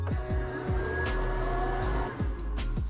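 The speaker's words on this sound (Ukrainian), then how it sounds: "Тут у нас тест протяжного механізму." On first power-up, the wire feed mechanism of a MAGNUM MIG 222 LED Dual Pulse MIG welder runs with a steady motor whine, punctuated by repeated low thumps at a regular pace, close and alone.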